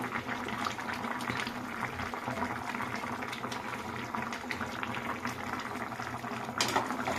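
Fish pieces dropped into a simmering Bengali curry with potato, drumsticks and lentil dumplings, a continuous close bubbling and sizzling with small pops and splashes.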